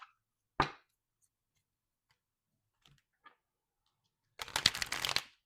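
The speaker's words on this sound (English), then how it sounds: "I'm shuffling" Tarot cards being shuffled: a short riffle near the start, a few faint taps in the middle, then a loud, dense burst of card riffling near the end, close by with no talking.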